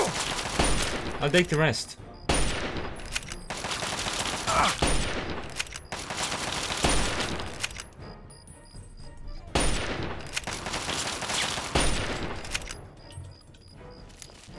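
Repeated bursts of gunfire in Fallout 3 crack out loud and close, dense volleys separated by short lulls, with a voice briefly speaking between shots.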